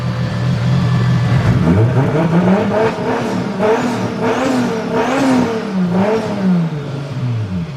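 A 1.5JZ engine in a Nissan S13 revs hard with a whirring Garrett GTX3584RS turbo spool, pitch rising and falling in repeated surges, loud and close.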